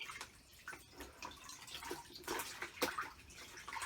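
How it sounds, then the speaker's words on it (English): Running water splashes and trickles unevenly as a gun-cleaning bore snake is rinsed, with irregular bursts of spray, close and fairly quiet, no speech. "now we have some rinse water, so we'll rinse it off"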